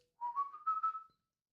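A single short human whistle, a rising warbling tone lasting under a second, clear and close in an otherwise quiet setting, used to call a dog.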